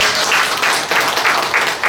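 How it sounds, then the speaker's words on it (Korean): Audience at an author's book launch applauds, a brief, loud burst of many hands clapping close by, fairly steady with slight surges. "박수 한번 보내주시면"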